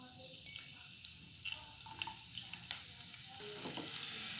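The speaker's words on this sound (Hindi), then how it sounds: "जीरे को तड़कने दें। जीरा तड़कने पर अब इसमें हम थोड़ी सी हरी मिर्च" Cumin seeds crackle and fry in hot oil in a pan, a soft continuous sizzle with faint pops and light stirring scrapes, fairly quiet and close, with no voice.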